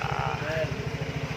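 A Yamaha Mio Soul i 115 scooter engine runs without engine oil, idling with a steady, rapid low putter, close up while someone talks over it.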